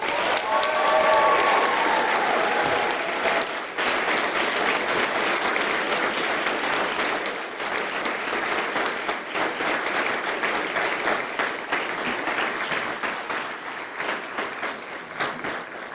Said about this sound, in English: Please give them an enormous and rousing round of applause.